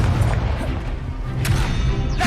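A fire spell cast in the fantasy video game Hogwarts Legacy during a duel, a loud sustained whooshing burst with a sharp flare partway through, dense and roaring against a low rumbling game background.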